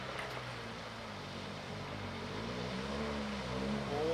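BMW motorcycles ride past on a road in the Kimberley, a distant engine drone that builds steadily and rises in pitch as the bikes approach, with no talking.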